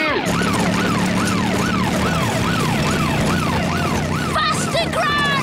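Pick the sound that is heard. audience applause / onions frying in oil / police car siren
police car siren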